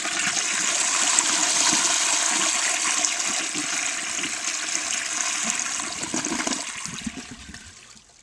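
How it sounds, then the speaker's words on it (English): A 1933 Standard Modernus toilet flushes with a loud, close rush of water gushing through the bowl, a churning hiss that holds steady for several seconds before fading as the bowl drains. "the 1933 Standard Modernus is ready for its first flush"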